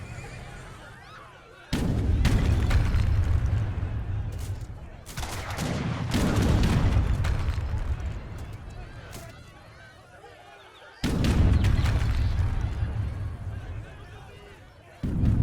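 Cannons fire in a strategy video game battle, sounding as repeated loud booming blasts in bursts amid the din of combat and neighing horses, with a commentator talking over parts of it.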